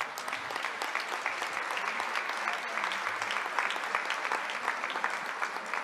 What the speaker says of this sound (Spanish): y un aplauso para ellos, por favor